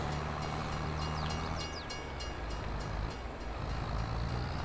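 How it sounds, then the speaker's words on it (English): Train passing in the video game Farming Simulator 22 on a Missouri map, a steady, dense mechanical rumble and rolling noise that holds throughout with some faint squeals on top, and no voices. "I almost met the train head on."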